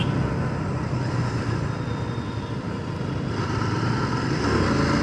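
A Royal Enfield GT Continental 650 motorcycle being ridden and revved on the road: a continuous loud engine roar that dips briefly, then rises again, mixed with wind and road noise, with no talk.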